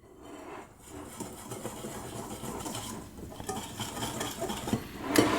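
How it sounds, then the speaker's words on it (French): Dry pancake ingredients being mixed in a bowl, a steady scraping and clinking of a utensil against the bowl that grows busier and louder toward the end, with no talking. "Là, on mélange comme il faut."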